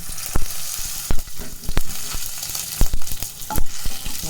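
Dried red chillies sizzling in hot tempering oil with mustard seeds for rasam, a loud continuous crackle with sharp pops and stirring clicks, close and without talking.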